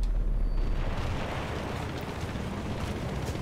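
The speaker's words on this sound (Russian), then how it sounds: "Граната!" A grenade in Battlefield 2 with the EUWIN mod goes off in a booming burst, followed by a dense, rumbling roar that fills the short stretch.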